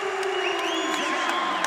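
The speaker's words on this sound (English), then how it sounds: "Standing O from the Prudential Center" Arena crowd at the Prudential Center giving a standing ovation after a wrestling match, loud continuous cheering and whooping with rising shouts over a constant roar.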